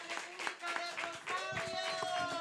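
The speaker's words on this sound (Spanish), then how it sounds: "Un aplauso para los compañeros." Audience applause for guests at a Caribbean-diaspora panel discussion, a short burst of scattered hand claps under a speaking voice and tonal background sound.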